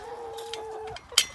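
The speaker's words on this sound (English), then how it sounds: "the baby rooster is right there" Chickens in a farm pen give short, close clucks and a sustained tonal call, with light scratching and rustling between; a brief, sharper squawk comes near the end.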